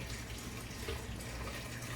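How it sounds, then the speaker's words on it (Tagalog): Steady rush of water running from a tap, a continuous even splash with no talking. "lagyan natin tubig"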